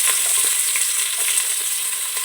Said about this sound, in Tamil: இப்போ பட்டை, லவங்கம்லாம் போட்டுக்கலாம். இப்போது ஆனியன்ஸ்லாம் ஆட் பண்ணிக்கலாம்.